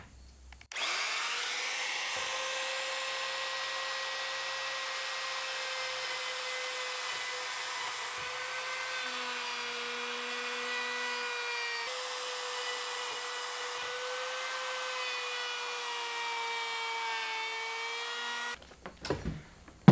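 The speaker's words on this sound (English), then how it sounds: "I'm just going to put a hole in two corners to let that jigsaw get in here" A power drill bores holes in two corners of a workpiece as starter holes for a jigsaw, a close, steady high motor whine lasting about eighteen seconds with slight pitch dips under load, then stopping abruptly.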